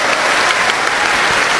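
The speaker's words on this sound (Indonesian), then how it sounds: "tepuk tangan buat Maryam." Audience applause at an event, a dense, steady wash of many hands clapping at once, loud and continuous from start to finish with no speech over it.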